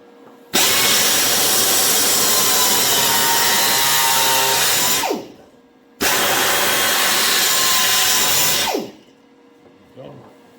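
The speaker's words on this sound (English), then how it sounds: "Just got to grind this down a little more." A power grinder works metal down on a handmade side scoop for a Superbee, running in two loud sustained bursts of about four seconds each, each ending in a falling whine as it spins down, with quiet between.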